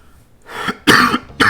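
A few harsh, close coughs in quick succession, the last two loud and sharp, with a short throat-clearing rasp before them.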